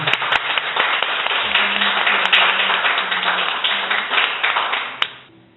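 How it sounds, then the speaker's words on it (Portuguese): A church congregation claps steadily in dense, sustained applause during a worship service, fading away at the very end. "mais uma salva de palmas para Jesus."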